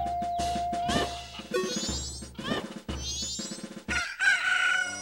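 Cucco chickens from the video game Zelda: Majora's Mask crowing and clucking loudly in overlapping bursts, mixed with game music and effects, with no talk heard.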